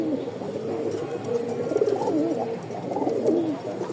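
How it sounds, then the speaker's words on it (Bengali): A pigeon coos close by in repeated soft, throaty warbles, clear and alone over a faint background. "জোস একটা কবুতর, সারা দিন ডাকবে, সারা দিন।"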